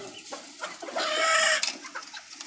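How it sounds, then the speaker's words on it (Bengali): Several fancy-breed chickens, including Columbian Brahma and Cochin, cluck in a cage nearby on a farm, with one longer, louder squawking call in the middle, the clucks coming in irregular short bursts. "এই মুরগিগুলি আমি এই খাঁচার মধ্যে রেখেছি"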